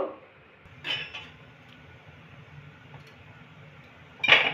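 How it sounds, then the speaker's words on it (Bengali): A metal tawa griddle is set down on a stove to heat for dosa, giving a short clank, then a quiet stretch, then a sharper metallic clatter at the end. "তাওয়াটা আমি গরম করতে বসিয়ে দিয়েছি"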